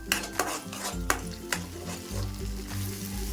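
Onion and cashew paste stirred and fried in hot oil in a pan, a steady close sizzle broken by several sharp scrapes and clinks of a spoon against the pan.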